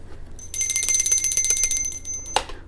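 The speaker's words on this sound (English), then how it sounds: "I'm going to go ahead and ring that bell again." A small bell rings with a rapid, bright metallic trill lasting about two seconds before it is stopped abruptly, loud and close with nothing else heard.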